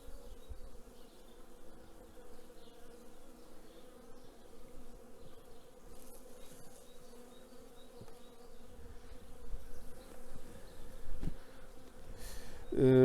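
Honey bees buzz steadily at an apiary hive in February, a continuous close drone that swells louder toward the end with a brief rustle.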